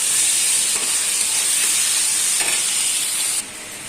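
Potatoes with spices fry in oil in a pan, giving a steady, loud sizzling hiss that holds throughout and drops a little near the end, with no voices.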